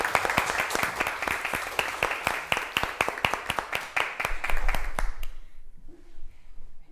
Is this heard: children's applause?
yes